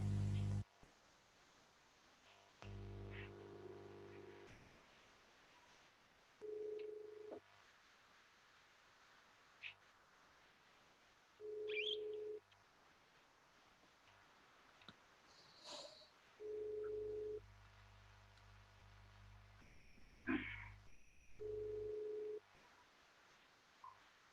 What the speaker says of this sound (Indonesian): Ntar saya telepon dulu Bu Nurul deh.